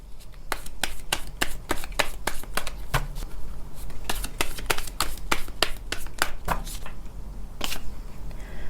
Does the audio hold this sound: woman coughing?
no